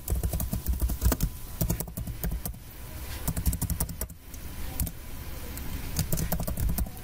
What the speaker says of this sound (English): I'm going to type in My Access Theme